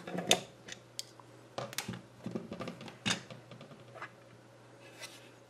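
The last screw comes out of a Venlab VM-600A digital multimeter with small close clicks, scrapes and light plastic knocks spaced irregularly against a faint steady hum.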